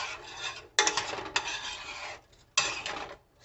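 Pasta is stirred in a pot on the stove in three bursts of scraping and rasping utensil strokes against the pot, close and moderately loud, with short pauses between them.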